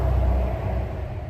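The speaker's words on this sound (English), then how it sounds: "Can you hear that? All that traffic already." Steady low rumble of distant early-morning traffic heard from a garden, a continuous muffled wash of road noise with no clear individual vehicles.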